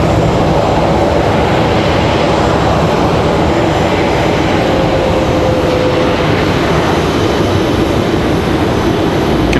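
Delta Airbus A319 airliner on arrival at Raleigh-Durham airport, producing a loud, steady jet roar throughout with a faint gliding engine whine, no talking.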